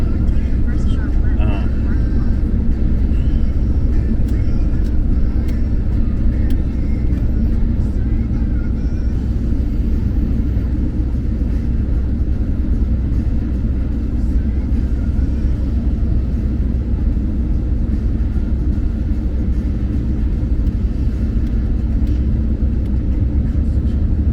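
Steady road traffic passing, a continuous low rumble and whoosh of vehicles heard from nearby, loud and unbroken throughout with no talking.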